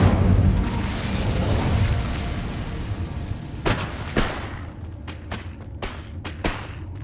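A fiery Incendio spell erupts with a loud, rumbling burst that decays into crackling, followed by several sharp, scattered impacts and pops from combat in Hogwarts Legacy.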